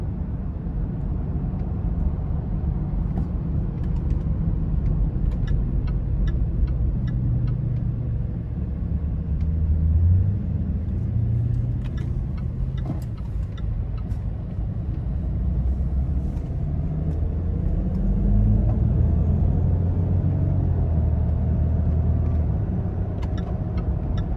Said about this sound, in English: even though this is a diesel motor, it's actually pretty quiet in the cabin